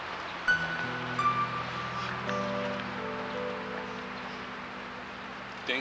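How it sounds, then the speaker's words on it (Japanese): Light rain falls steadily on a walking route near a temple in Odawara, Japan, a soft continuous patter under a low hum with a few brief knocks. "小雨が降っています。"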